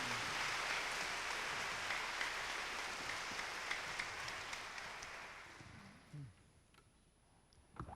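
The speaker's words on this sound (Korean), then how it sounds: "우리 다시 한번 뜨거운 박수로 환영하시기 바랍니다." A church congregation applauds warmly to welcome a visiting preacher in 1999, with dense, steady clapping that fades out over the last few seconds.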